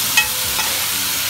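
Tomatoes frying in a pot, a steady close hissing sizzle with a couple of small stir bumps, loud and continuous, with no talking.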